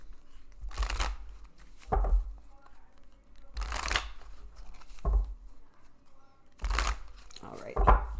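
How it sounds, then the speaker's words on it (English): Three bursts of a deck of playing cards being riffle-shuffled close by, each a quick ruffling flutter followed by a soft tap as the cards settle. "give this a couple more quick shuffles"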